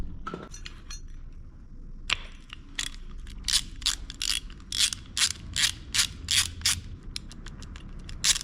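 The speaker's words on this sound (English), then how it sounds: "get your 6-sided socket on there, and then you'll have enough leverage to undo the union" A six-sided socket on a ratchet wrench working a brake pipe union, giving a series of sharp, close metallic ratchet clicks in quick bursts, loud and without talk.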